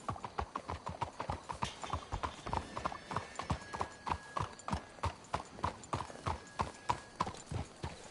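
Horse hooves clip-clop in a steady walking rhythm in the video game Red Dead Redemption 2, fairly close and continuous, with a faint whinny and light background ambience.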